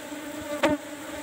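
Honey bees buzz around an opened hive after a new comb frame has been added to a full colony, a soft steady drone with one louder bee passing close by.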